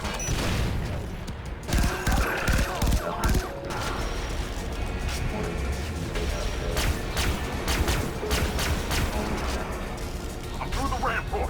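Far Cry 3: Blood Dragon gameplay with dense rapid gunfire, sharp bursts and crashing explosions in quick succession, loud and continuous, with mechanical clatter mixed in.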